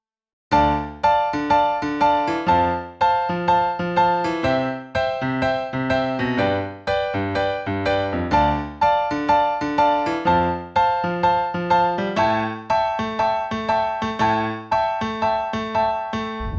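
Piano plays a steady chord progression with rhythmic repeated chords and moving bass notes stepping between them, clear and close with no talking.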